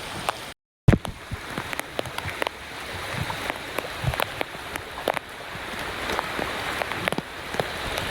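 Rain falls steadily during a bicycle ride, a dense close patter with scattered sharp drop hits and knocks, after a brief cut to silence near the start.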